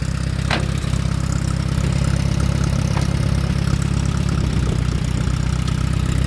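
An Allis Chalmers WD tractor engine runs steadily up close, a loud low idling throb with a rhythmic knocking pulse and a few faint clicks, with no talking.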